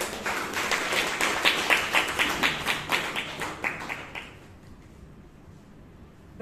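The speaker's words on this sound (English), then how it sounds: "Let's give a huge round of applause to the speaker, DTM Sumitra Manmohan, and the evaluation." Rhythmic group clapping at a Toastmasters meeting in Bangalore, evenly paced beats for about four seconds, then it stops and quiet room tone remains.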